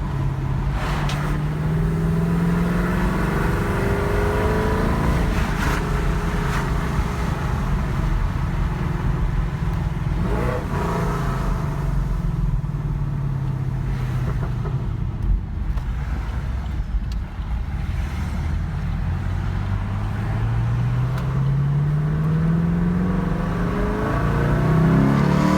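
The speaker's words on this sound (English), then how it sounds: "A quick clip of her driving. I'm gonna use some paddle shifting now." A 2015 Camaro SS with full bolt-on modifications pulls hard under acceleration, its V8 note rising and dropping through several paddle-shifted gear changes, steady and loud from inside the car.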